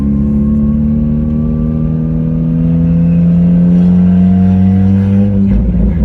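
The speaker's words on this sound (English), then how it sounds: "You can hear the transmission." A loud, close engine in a boosted 11th-generation Honda Civic hatchback, with a rising tonal transmission whine that climbs steadily in pitch as the car accelerates, then drops sharply near the end.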